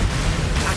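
A spell blast bursts in the Hogwarts Legacy video game, a dense, loud, short roar that fills the whole moment without letup.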